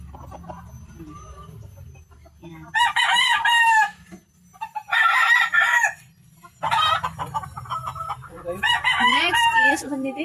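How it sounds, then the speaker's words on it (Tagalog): A White Kelso rooster and a Gilmore Hatch hen crow and cluck in a yard, three or four loud, close crowing bursts separated by quieter pauses with soft clucking. "Meet Papa Chicken and Mama Chicken in the house."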